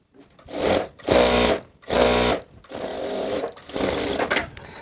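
A sewing machine stitches the side seam of a maxi dress, the seam sewn twice over, running in several loud bursts with brief pauses between them and no talk.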